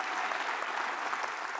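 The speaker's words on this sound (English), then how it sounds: "You get more applause than I do." A short burst of steady audience applause at a regional investors breakfast, dense and fairly close, with no voices over it.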